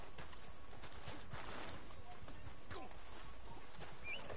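Horse hooves clip-clop at a steady walking rhythm while riding in the Red Dead Online video game, a moderate, continuous patter of hoofbeats with faint talk over it.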